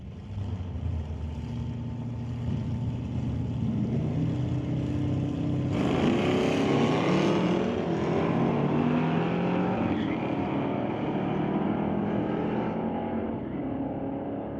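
Engines of an old school Cutlass and a Hustler roar in a sportsman drag race, a steady loud drone that surges with a harder, brighter rev midway and holds as the cars race down the strip.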